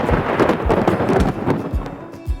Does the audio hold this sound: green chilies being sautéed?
no